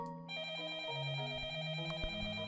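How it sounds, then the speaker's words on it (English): Telephone ringing in the horror video game Up All Night, a steady electronic ring tone holding clearly on its own at moderate level with no talk over it. "The phone?"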